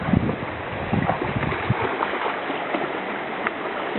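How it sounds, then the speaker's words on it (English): Nantcol waterfall flows as a steady, full rushing roar heard from nearby, mixed with gusts of wind buffeting the microphone. "And there's a pretty waterfall."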